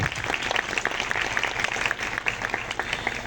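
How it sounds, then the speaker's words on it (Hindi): An audience at a family Thanksgiving prayer gathering applauds with dense, steady clapping that is moderately loud and continues throughout. "हम उनके लिए भी तालियां बजाएंगे।"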